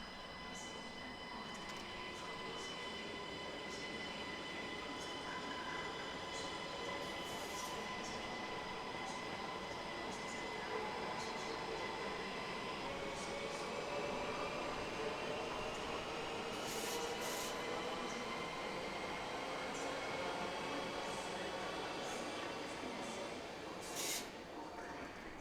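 A rush-hour commuter train bound for Mouscron, number 2134, arrives with a long, steady rumble of wheels on rails and rising and falling squeals from the wheels, with a voice talking over it.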